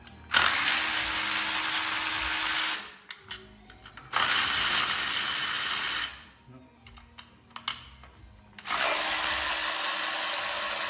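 Socket wrench ratcheting a 10 mm bolt off the foot peg of a 1981 Honda CB750 motorcycle, three loud sustained bursts of rapid clicking separated by brief pauses with small taps and handling noises, no talking.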